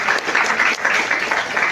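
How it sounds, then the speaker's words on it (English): Audience applause at a financial leadership masterclass at UPSA, steady dense clapping from a crowd welcoming a speaker to the podium, sustained and fairly loud throughout with no talking. "Oh, please be clapping."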